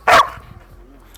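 A Belgian Malinois gives one loud, close bark at the start, followed by a quieter trailing tail of low sound and faint background noise.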